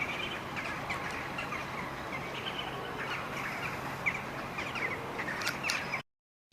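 Mallard ducks gathered at a winter feeding site in Tver, faint scattered calls and chirps over a low steady outdoor background, cutting off abruptly near the end.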